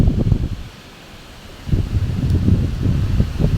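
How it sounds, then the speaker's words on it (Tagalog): Strong wind gusting over a river, roaring and buffeting the microphone in low rumbling surges, a brief lull before it picks up again, loud and close with no voices. "Malakas na naman po ang hangin."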